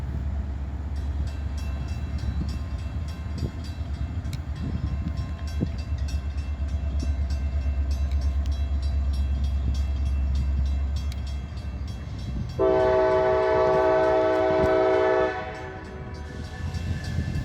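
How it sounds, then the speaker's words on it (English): A manifest freight train rumbles past close by with a steady low roar and rattling wheels, then a loud horn blasts for a couple of seconds. "As the manifest train passes, we can now see L301 pulling out of the siding"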